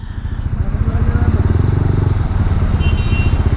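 A motorcycle carrying three riders passing on the Tarlac–Botolan road, a loud, close, rumbling engine drone with steady low throbbing pulses and no talk.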